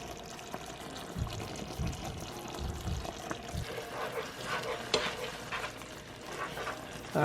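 Creamy Tuscan chicken sauce simmers and thickens in a pan, a soft continuous bubbling sizzle with occasional stirring scrapes and gentle low thumps, close and moderately loud.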